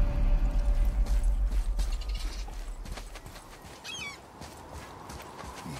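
An axle being lifted in God of War produces a heavy mechanical clatter and grinding, loud at first and then easing into lighter creaks and ratcheting clicks, with no voices.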